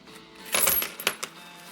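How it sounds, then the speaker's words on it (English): A handful of coins drop out onto a surface in a short burst of bright metallic clinks and jingles, a few quick impacts close by with no voices. "Little Reaper drops out the coins."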